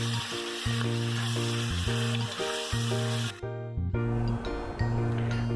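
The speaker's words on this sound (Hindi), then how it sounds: "इसमें मैं गोश्त डाल के अच्छे तरीके से भुनाई करूँगी" Meat frying in a pan with light-browned onions, a steady loud sizzle and crackle with occasional stirring scrapes, heard alone with no talk.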